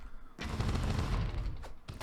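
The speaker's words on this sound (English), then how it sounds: "when jumping, she does now add a popping explosion effect" A popping explosion effect from the video game Broforce, set off as a character jumps and digs through ground: a short burst of crackling blasts lasting under two seconds.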